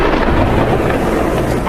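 A thunderstorm with lightning and rain in Kentucky, a loud, dense roar of rumbling thunder blended with heavy rain that fills the short stretch without letup.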